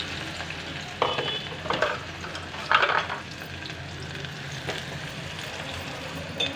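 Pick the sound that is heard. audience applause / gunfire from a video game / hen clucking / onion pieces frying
onion pieces frying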